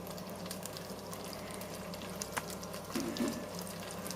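About 2.5 tablespoons of minced garlic cook in a pot for seafood chowder, starting fairly cold, giving a soft, low, steady sizzle with faint scraping and a slight swell toward the end.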